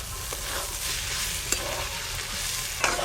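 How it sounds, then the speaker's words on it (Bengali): Chopped snake gourd fries in mustard oil in a pan, a steady soft sizzle broken by a few scraping stirs of a spatula, close and alone. "চিচিঙ্গা ভাজিও কিন্তু হয়ে গেল"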